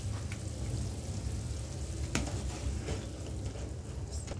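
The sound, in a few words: gram flour (besan) stirred into boiling water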